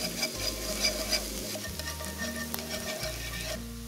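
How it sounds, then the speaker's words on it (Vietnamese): Shallots and garlic frying in hot oil for braised bitter melon, a loud continuous sizzle with faint stirring close by, no voices. "Dầu nóng thì mình cho hành tỏi vào để phi lên cho thơm nè."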